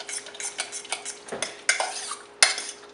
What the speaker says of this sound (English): So we're going to go ahead and just mix this in.